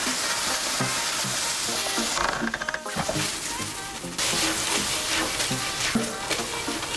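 Rice toasts in a hot pan for artichoke risotto, a dense, close sizzle with regular scraping strokes of stirring and a brief lull partway through; no one speaks.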